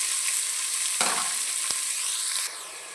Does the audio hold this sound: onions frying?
yes